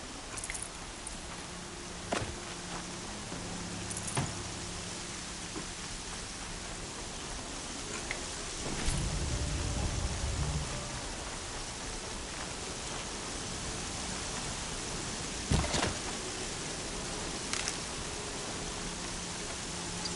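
Heavy rain in the video game Horizon Zero Dawn makes a steady, dense hiss with a few scattered sharper clicks and thumps. It is constant and moderately loud, with no talking.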